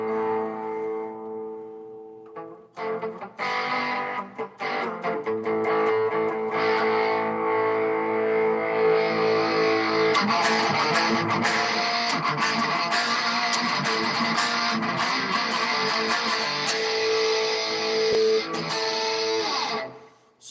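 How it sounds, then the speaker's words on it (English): Electric guitar played through the turbo distortion effect on a Boss ME-90 multi-effects unit, guitar volume rolled down to 2: sustained, thick distorted chords and notes ringing loud and continuous for about twenty seconds before cutting off. "That's the turbo distortion."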